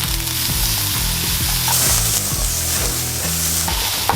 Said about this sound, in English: Add some onion, a little bit of garlic, add some bacon